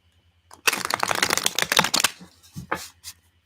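A deck of tarot cards is shuffled close up in a dense, crisp riffling burst lasting about a second and a half, followed by a few separate soft card taps against a quiet background.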